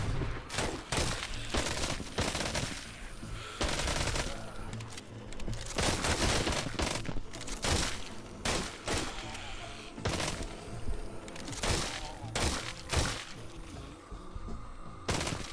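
Rapid bursts of gunfire and shotgun blasts from the VR zombie shooter Arizona Sunshine in horde mode, loud and repeated in irregular volleys across the whole stretch, with faint other game sounds between shots.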